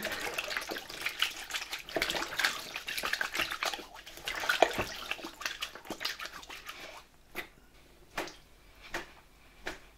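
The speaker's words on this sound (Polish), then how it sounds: "najpierw sobie tutaj porządnie zmoczę ręce." Hands being wetted and splashed in a bowl of water, with a continuous close sloshing that gives way to a few separate drips and splashes near the end.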